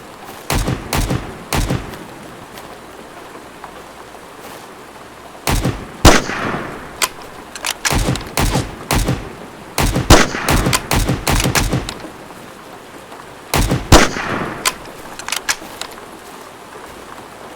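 Single sharp rifle shots from an MP18 in the video game Road to Vostok, fired in irregular groups with short pauses between them, loud and close, interspersed with mechanical clicks of handling.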